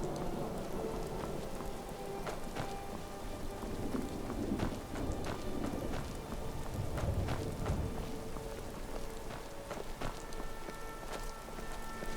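Dense, steady rain pours in Skyrim Special Edition, a continuous close hiss of drops on surfaces with low rumbling thunder beneath and scattered sharper splashes, no voices.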